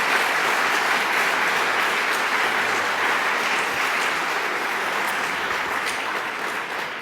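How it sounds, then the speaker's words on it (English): An audience at a university student affairs division event applauds steadily to welcome a panel, a dense, continuous wash of clapping that fades slightly near the end. "So let us now give our panelists a rousing round of applause and welcome."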